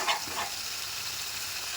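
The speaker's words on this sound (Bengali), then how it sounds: "ভালোভাবে তেলের সঙ্গে পেঁয়াজটাকে মিশিয়ে নেব এবং যতক্ষণ না কাঁচা গন্ধটা যাচ্ছে ততক্ষণ কিন্তু খুব ভালো করে কষাতে হবে" Onion paste frying in oil, stirred during cooking for a prawn malai curry, gives a steady broadband sizzle with a brief scrape near the start, heard close and alone.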